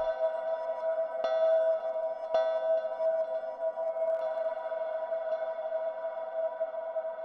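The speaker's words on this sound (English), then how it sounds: "you can hear it filtering the sound as I lower the high cut" A Valhalla Room reverb plugin's tail rings as a sustained, harmonic-rich tone with a couple of sharp transients, its high cut low-pass filter being lowered so the brightness gradually thins, steady and fairly quiet with no talking.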